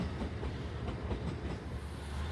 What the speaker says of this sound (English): this is the train back to Wakayama